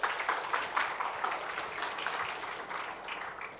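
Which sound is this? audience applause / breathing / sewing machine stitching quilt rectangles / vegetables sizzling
audience applause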